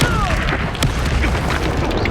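Incendio fire spell cast in the fantasy video game Hogwarts Legacy, a loud whooshing burst of flame over dense, rumbling game-combat noise, with a brief sharp impact near the start.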